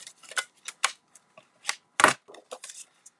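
Cardstock, an 8.5 by 11 sheet for card making, is cut with a series of short, crisp snips and rustles, close and clear, one louder slice near the end, with no talking.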